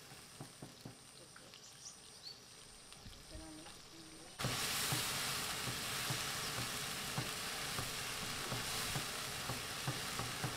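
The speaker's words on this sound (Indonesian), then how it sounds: "Kemudian masukkan bumbu halusnya tadi dan masak sampai tanak ya teman-teman." Spice paste for chicken wings frying in a pan, a soft crackle that jumps to a loud, dense, steady sizzle partway through, with occasional stirring scrapes and no talking.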